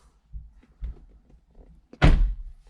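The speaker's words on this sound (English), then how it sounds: "Shut the door." A VW car door, 2012-2019 model, shut with one heavy thunk near the end, preceded by a couple of softer bumps and handling sounds.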